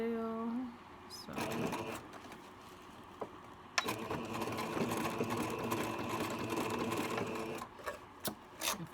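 A sewing machine stitching tulle, running in steady whirring bursts with a rapid mechanical clatter, stopping and restarting a few times at close range, with a brief voice at the start.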